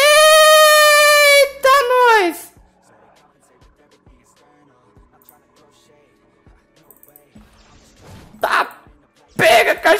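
A dog in the video game Lost in Blue gives a loud drawn-out whining howl, then short sharp yelps and barks return near the end after a quiet stretch of faint ticks.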